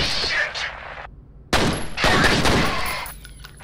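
Pistols fire in the shooter game F.E.A.R., with two loud bursts of rapid shots separated by a brief lull, close and punchy, ringing with a little echo.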